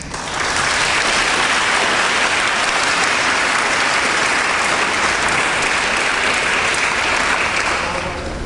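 An audience applauds to welcome Dr. Tony Wagner to a talk on innovation in Thailand, steady and full clapping from a large crowd that lasts throughout and fades slightly at the end.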